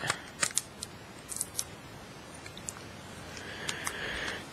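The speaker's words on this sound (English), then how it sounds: "It takes a while to get this tape off." Packing tape being peeled off a cardboard package, giving scattered short crackling rips and a longer tearing stretch near the end, close and fairly quiet with no talking.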